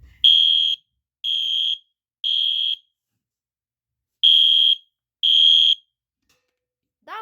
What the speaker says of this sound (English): I'll be doing a code 3 demo on continuous